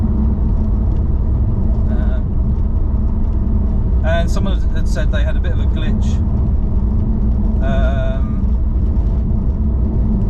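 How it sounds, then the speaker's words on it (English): Steady, loud road traffic rumbles throughout, a constant low roar of passing cars, while a person talks over it in short bursts. "Sorry about this road, it's very noisy."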